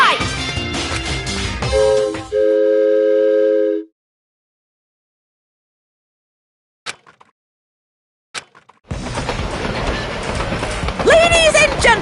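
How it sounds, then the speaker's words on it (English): A video game train rattles and clatters loudly for a few seconds, then a sustained chord rings out and cuts to silence before a few sharp clicks and a burst of busy game sound. "this train is heading toward the funhouse!"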